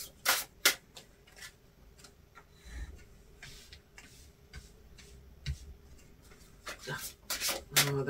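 Playing cards being shuffled, a series of soft riffling rubs and sharp flicking snaps that come and go over a quiet room tone, with louder bursts near the start and end and no one speaking.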